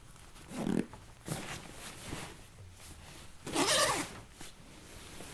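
Several long zipper pulls, loud and close, as a light Super Spike duffel is zipped onto the outside of an Eberlestock Skycrane II backpack, with rustling fabric between strokes.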